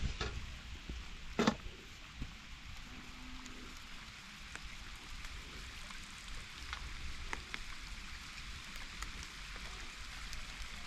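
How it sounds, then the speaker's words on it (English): Rain falls outdoors beside a lake as a steady soft hiss and patter, with one sharper knock near the start and scattered light drips throughout. No one speaks. "God decided that He is going to bless us with the rain"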